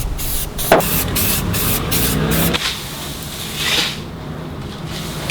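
Rust-kill treatment sprayed from a can under the tank of a ute, loud close bursts of hissing spray with short pauses and a softer final burst, no one talking.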